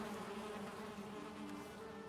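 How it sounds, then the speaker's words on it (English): Bees buzzing steadily around a beehive in the video game Valheim, a continuous faint droning hum with no pauses and no voices. "this is the beehive"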